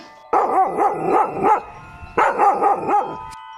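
A cartoon dog barks in the Sakura School Simulator video game, in two close, loud bursts of about four or five quick barks each, separated by a short gap, with no talking.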